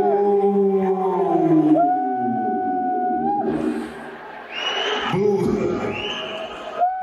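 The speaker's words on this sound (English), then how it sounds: "It is a tsunami of boos going on right now." A large comedy-show crowd at a Dave Chappelle performance loudly boos Elon Musk, with long, drawn-out, overlapping jeers swelling and falling in waves.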